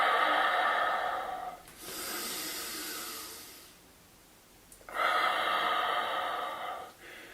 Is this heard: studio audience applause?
no